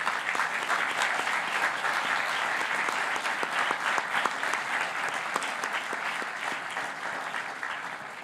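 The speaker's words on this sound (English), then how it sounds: "I want a round of applause right now" A large crowd at the dedication of Fitts-Woolard Hall gives sustained applause, a dense, even clapping texture that continues strongly for about eight seconds and fades slightly at the end.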